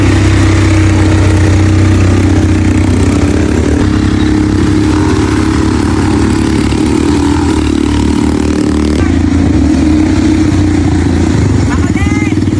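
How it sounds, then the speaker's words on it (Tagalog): A motorbike engine on Boracay Island drones steadily and loudly throughout, its low hum shifting slightly in pitch as it runs. "nasubukan ko na din na para lang ako nagdadrive ng motor"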